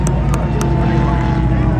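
Supercharged powerboat engine roaring steadily past on the front straight of a 100 km river race, a dense loud drone with a high whine riding on top, with a few brief sharp clicks near the start.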